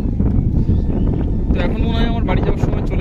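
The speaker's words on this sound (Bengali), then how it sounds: "তো হাওয়া আস্তে আস্তে প্রচণ্ড পরিমাণে বাড়ছে" Strong wind roars and buffets the microphone continuously outdoors, with a voice talking over it.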